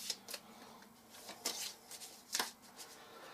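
Lords of Hellas board game event cards being shuffled by hand: soft, close riffling bursts, a few quick rustles and flicks, quiet and alone without talk.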